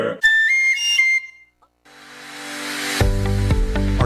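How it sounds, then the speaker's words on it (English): A shrill wiener whistle sounds in short bursts, then after a brief pause a louder, buzzy tone swells and holds with deep rumbling underneath. "Get your wiener whistle."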